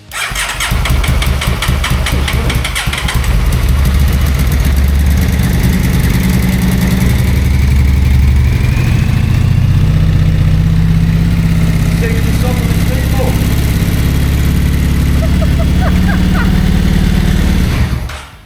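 A restored motorcycle for a sidecar build, started on its first attempt after a load of work, cranks and catches, then runs loud and close with a steady revving, throbbing engine for the rest of the clip.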